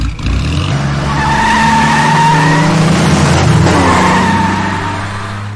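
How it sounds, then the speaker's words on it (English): A race car takes off hard from the start of a race, tires squealing and skidding while the engine roars and accelerates, loud and close throughout, with no voices. "I never seen Cassie take off fast like that"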